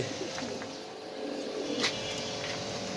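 Pet pigeons of lark and racer breeds coo at a loft, a soft low murmuring burble that runs steadily for a few seconds with no one speaking.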